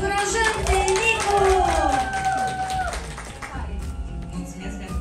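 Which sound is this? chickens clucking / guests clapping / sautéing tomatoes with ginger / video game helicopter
guests clapping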